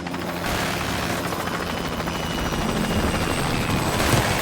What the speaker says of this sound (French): Hélico en approche.